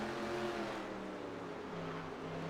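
A rough, droning race car engine, damaged after a collision in NASCAR Racing 2003 Season at Bristol, hums steadily at moderate distance, its tone wavering and uneven rather than clean.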